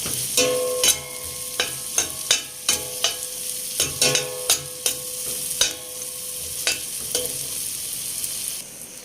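Butter and lemon join a chicken biryani pan, a continuous sizzle punctuated by a dozen or so sharp metallic clanks of a spoon stirring against the pan, close and loud, no talk.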